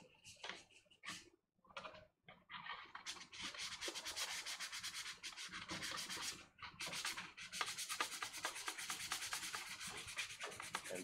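Close hand sanding of a plastic armor collar piece with 220-grit sandpaper: a few short scratches, then sustained rapid back-and-forth rasping strokes with a brief break.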